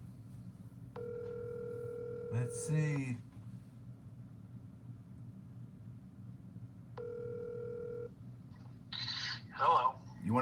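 An outgoing telephone call rings twice, each a long, steady electronic ring tone with a pause between, while someone talks quietly over the line.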